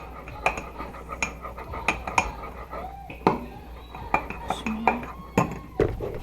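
Lava cake batter mixed in a bowl with crushed pineapple, giving repeated sharp clinks and scrapes of a spoon against the bowl at an uneven rhythm, close up, with faint murmuring in the background.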